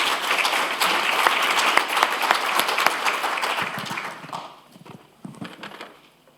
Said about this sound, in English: Can I have a round of applause for Paddy